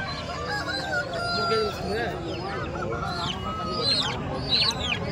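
A rooster crows loudly nearby at a poultry market, its calls rising and falling, with other fowl clucking and honking in a busy yard.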